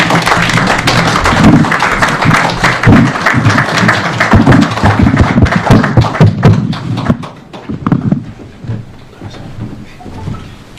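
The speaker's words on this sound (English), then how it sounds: "Let us stand up and give him a round of applause." Applause from a standing audience for a keynote speaker at a Nairobi book launch, a dense, loud burst of clapping with a few thumps that thins out and fades toward the end.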